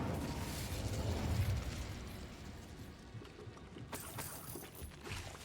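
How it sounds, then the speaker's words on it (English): Spiders burst apart in the Hogwarts Legacy video game, giving muffled booming explosions over low rumbling game ambience, with a sharper crackling burst near the end. "Apparently they just explode when I get near."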